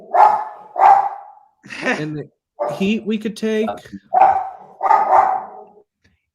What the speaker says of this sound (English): My dog's never been quiet for 2 consecutive hours a day in his life